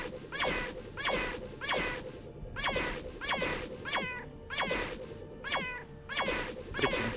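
Repeated cat meows from the video game Underrail, about ten sharp rising-falling cries in a steady rhythm over a low ambient hum, loud and close with no talk.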